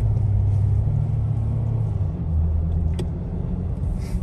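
Tire and road noise inside a moving Mercedes X-Class pickup, a constant loud low rumble and roar filling the cabin steadily throughout, with no voices.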